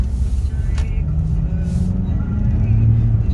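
A 2004 Honda CR-V 2.0 E i-VTEC 4WD pulls away in first gear, its engine giving a steady low hum and rumble under someone talking throughout.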